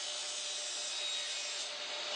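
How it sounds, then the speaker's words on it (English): A Trex composite railing foot block has its top section cut to an angle, giving a steady, continuous bright rasping cut that holds at an even level for the whole stretch, close by with no talk. "Cut the top section of the block to the same angle as the rail."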